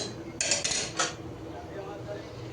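A metal lid is set onto a pot of nearly cooked rice in a home kitchen, giving a few close, quick clattering clanks before a low, steady kitchen hum returns.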